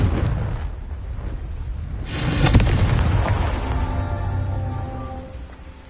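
A Confringo fire spell explodes in the Hogwarts Legacy video game, a loud, deep blast bursting out midway and rumbling on over a noisy background before fading.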